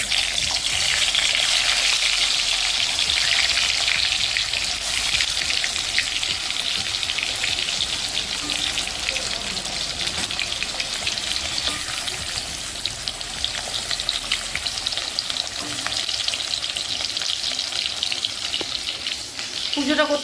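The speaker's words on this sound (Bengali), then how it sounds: "ওই দুটো জিনিস ভাজবো তেল বসিয়ে দিয়েছি" Teasel gourd and pointed gourd frying in hot oil in a home kitchen, a loud continuous crackling sizzle that holds steady for the whole stretch.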